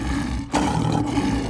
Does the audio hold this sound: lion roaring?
yes